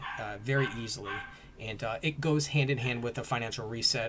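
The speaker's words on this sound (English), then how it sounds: "Sorry about the dog barking in the background." A dog barks and yips in the background of a home live stream, its brief calls mixed beneath a person talking continuously in the foreground.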